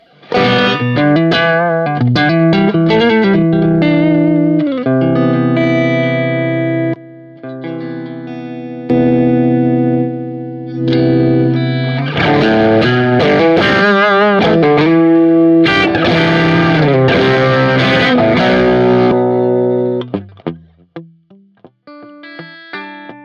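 Heavily distorted electric guitar through a Warm Audio WA-C1 analogue chorus pedal preamp on its high setting, with a shimmering chorus effect, playing sustained chords and riffs loudly, with brief pauses before trailing off at the end.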